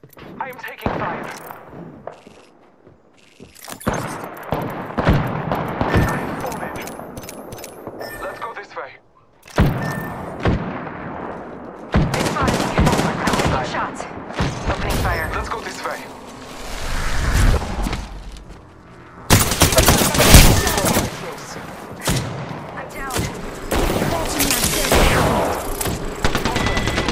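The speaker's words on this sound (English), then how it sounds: "I am taking fire." Gunfire in the video game Apex Legends, repeated bursts of automatic fire and heavy impacts coming in waves with brief pauses, with a voice talking over the shooting.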